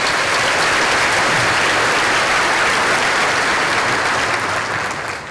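A keynote audience at a school district State of the District event claps loudly and steadily in a dense, sustained wash that tapers slightly near the end.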